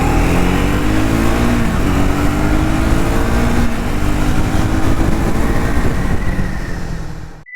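A Triumph Speed 400 single-cylinder motorcycle engine revs up and holds a loud, throaty drone nearby, pitch rising and falling through several throttle changes before cutting off abruptly.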